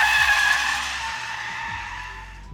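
Car braking hard without ABS while the rear slides out, tires skidding in a loud sustained screech that fades over about two seconds, with no speech.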